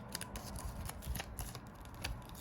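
Scissors snip repeatedly through excess glitter heat-transfer vinyl, trimming around a design in a series of short, close, crisp cuts over faint room noise.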